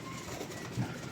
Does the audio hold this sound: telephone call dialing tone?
no